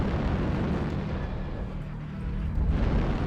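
Airstrike explosions in the MechWarrior game, a dense, continuous rumble of blasts and booms that swells again near the end, with no distinct pauses between impacts.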